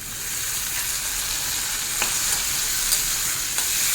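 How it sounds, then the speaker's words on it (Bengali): Tomato frying with ginger, garlic, onion and green chili in a pan, giving a steady close sizzle and hiss with a few soft taps from the spoon. "আদা রসুন পেঁয়াজ কাঁচা লঙ্কার সঙ্গে টমেটোটাকেও ভালো করে ভেজে নেব"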